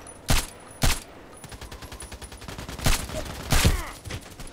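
Silenced sniper rifle fire in a shooter video game: several sharp, loud reports spaced irregularly over a few seconds, with quieter clicks and mechanical rattles between them and no talk.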